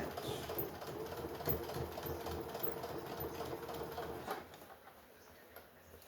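A sewing machine runs a steady mechanical stitching rhythm while back stitching fabric for a stuffed toy bear, then slows and quiets near the end. It is close and fairly soft, with no talk.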